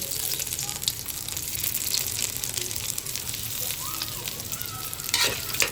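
Pancit sizzling in a hot pan with kikiam and pork fat, a continuous crackling fry close by with occasional stirring scrapes and a brief louder burst near the end.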